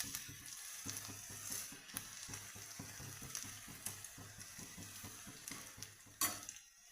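Ginger, garlic and curry leaves fry in hot oil in a pan, a steady close sizzle running throughout with light rhythmic stirring clicks and one louder knock near the end.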